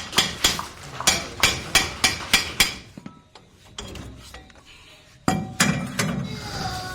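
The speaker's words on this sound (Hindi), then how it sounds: "अभी ड्रम को खोलेंगे।" Metal tapping on the brake drum of a Mahindra Treo Zor loader during removal, a run of about ten sharp, evenly spaced close strikes, then quieter clinks and a louder scraping clatter near the end.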